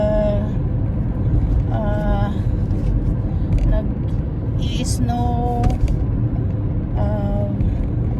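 Cars roll by on a busy, snow-covered road in the morning, making a steady, continuous traffic rumble, with voices talking over it throughout.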